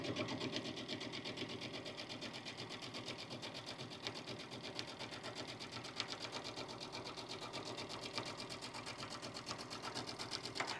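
A sewing machine stitches steadily across a Bliss bucket bag with a lengthened stitch and no foot pedal, a fast even mechanical whir and patter running loud and continuous throughout.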